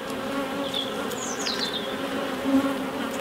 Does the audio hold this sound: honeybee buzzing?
yes